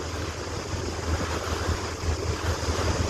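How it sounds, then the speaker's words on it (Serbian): A maestral wind blows at sea off Dubrovnik during a long rowing voyage, heard as a dense, continuous roar of wind and lapping waves with low gusty rumble against the microphone. "Polako je krenuo i da puše neki vetar, maestral"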